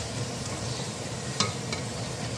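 Potato and spinach pakoras frying in hot oil, a steady, close, even crackling sizzle that runs throughout with one brief sharper pop partway through.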